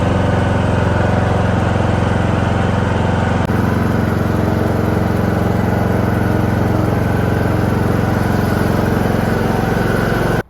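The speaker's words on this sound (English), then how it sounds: "So I am gonna use my lawnmower." A lawn mower engine runs steadily at a constant loud drone while towing a car backwards by its rear bumper, with no pauses in the note until it cuts off abruptly at the very end.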